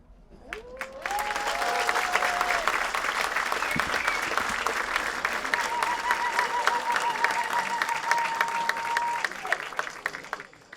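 A comedy show crowd breaks into sustained, dense applause that holds steady for about ten seconds, with a few whistles and cheers rising through it.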